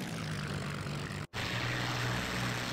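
Hawker Hurricane aircraft engines droning in the video game IL-2 Sturmovik, a loud, steady propeller roar heard up close, broken by one brief dropout midway.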